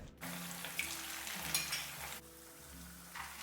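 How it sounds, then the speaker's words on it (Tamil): Samosas shallow frying in oil on a tawa give a steady close sizzle, with a sharp burst of crackling as they go into the hot oil. "தவாவில் எண்ணெய் சூடு பண்ணிவிட்டு இதை போட்டுருங்க. இது வந்து நான் ஷாலோ ஃப்ரை தான் பண்ண போகிறேன்"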